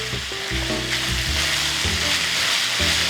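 Scallions and diced jalapenos fry in a pan, a steady sizzle with stirring, close and loud, mixed with low tonal hum or music underneath.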